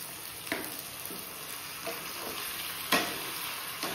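Ginger, chili and garlic paste sizzles steadily in a hot pan, with occasional scraping stirs and soft clacks of a spatula close by.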